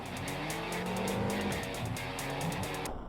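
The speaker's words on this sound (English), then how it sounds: "Hit the gas, Jack" Race car engine in the Jak X: Combat Racing video game revving hard and accelerating, a loud sustained roar with rising pitch and tire squeal, continuous for about three seconds before cutting out.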